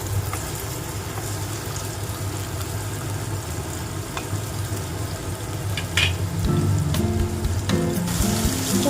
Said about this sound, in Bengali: খুব বেশি ভাজবো না, এরকমভাবেই ভাজবো